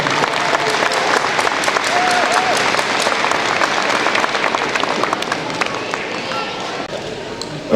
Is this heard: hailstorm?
no